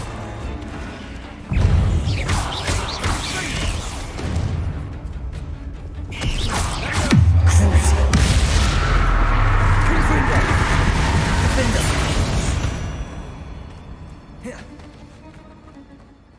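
Bombarda spell blast in Hogwarts Legacy: a sudden loud burst, then a heavier explosive boom with a deep, sustained rumble and crumbling debris that fades slowly.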